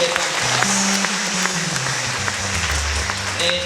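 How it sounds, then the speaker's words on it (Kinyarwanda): A church congregation applauds in a steady, dense wash of clapping that fills the whole stretch, with low voices or music faintly underneath. "Dukomere Imana amashyi"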